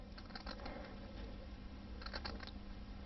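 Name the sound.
cutting fine lines into green felt with scissors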